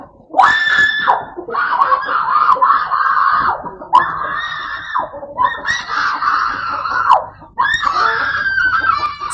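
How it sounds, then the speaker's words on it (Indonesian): A woman screams in pain after being shot in the right arm by her husband, several loud, drawn-out anguished shrieks in close succession, with brief breaks between them. "Seorang perempuan langsung menjerit akibat kesakitan saat lengan kanannya ditembak suaminya."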